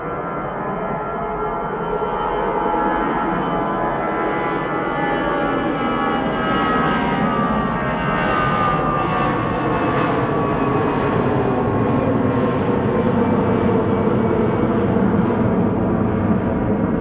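Steady, loud jet engine roar from a Jet2 airliner at Manchester Airport on a cold, icy day, a continuous broadband rumble and whine holding for the whole stretch with no voices.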